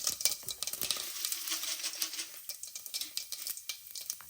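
Whole spices, cumin seeds among them, sizzle in hot oil for a Bengali chicken curry, crackling and popping in quick irregular bursts that are close but fairly quiet, with no voices.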